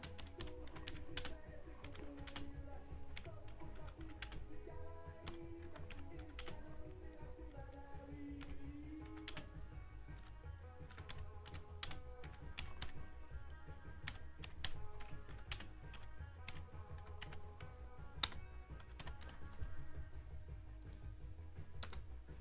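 Rapid, irregular key clicks from a computer keyboard go on steadily for over twenty seconds. They are quiet and close, with no speech over them.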